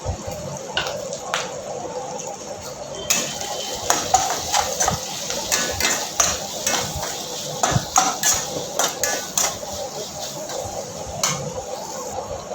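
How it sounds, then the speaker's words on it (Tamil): Salt and turmeric being stirred into a brinjal and drumstick kara kuzhambu curry in a pot, a spoon clinking and scraping against the metal in steady, repeated strokes over a wet, bubbling background, close by. "கொஞ்சமாக மஞ்சத்தூள் இதையும் சேர்த்து நல்லா கலந்து விட்டுக்கோங்க."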